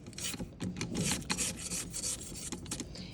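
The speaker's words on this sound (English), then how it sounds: "I'm just using my rubber spatula to scrape the sides of the bowl" A rubber spatula scrapes the sides of a mixing bowl of oatmeal chocolate chip cookie dough, making repeated close, rough rubbing strokes in an irregular rhythm.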